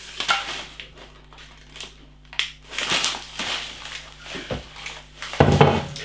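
A hand digging into a snack bowl of crunchy honey spice snacks, with scattered rustling and crinkling bursts and light clatter, close and irregular, with one louder crunchy rummage near the end.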